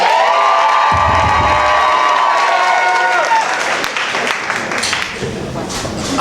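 Loud, sustained applause and cheering from a New York comedy show crowd, with shrill whoops and shouts riding over dense clapping that stays strong across the whole stretch, easing only slightly near the end.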